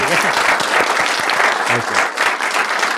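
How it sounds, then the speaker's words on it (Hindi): Dense, loud applause from an audience at a finance class fills the room, a steady wash of clapping with faint voices mixed in. "सब एक बार अंकुर के लिए तालियां बजाइए।"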